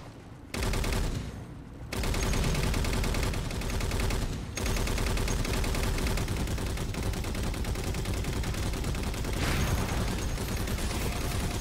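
Sustained automatic fire from a mounted turret machine gun in the video game Halo 4 rattles loudly and almost without pause, with a brief lull near the start and a short break partway through.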